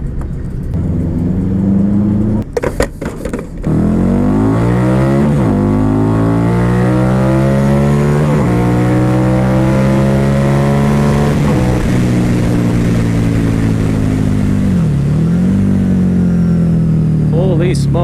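A Harley-Davidson Night Rod Special V-Rod cruiser motorcycle accelerates hard nearby, its loud engine climbing in repeated rising sweeps as it pulls through the gears, with brief lulls between shifts.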